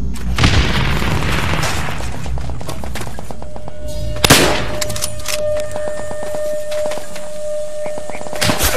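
Booming gunfire in a video game, a weapon firing repeated heavy shots with one sharp loud blast midway, close and dense, mixed with steady game background noise.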